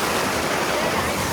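Canal water rushes past in a dense, continuous roar, loud and close, with no distinct voices over it.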